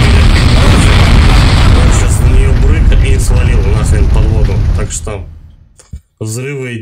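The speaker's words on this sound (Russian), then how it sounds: "взрывы эти бесполезняк" Explosions in the PS2 game Resident Evil Code: Veronica, a loud rumbling blast sustained for several seconds and then fading out, followed by a short burst of in-game sound.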